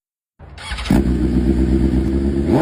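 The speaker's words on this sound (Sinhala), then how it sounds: "දැන් අහලා බලන්නකෝ මේ BMW bike එකේ සද්ද කොහොමද කියලා." A 2021 BMW S1000RR motorcycle fitted with an Arrow full titanium exhaust fires up, then settles into a loud, steady, throaty idle with a rich rumbling drone close by.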